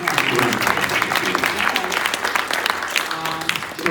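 A crowd at a panel session gives the panelists a full, loud round of clapping, dense and steady throughout, with a few voices mixed in.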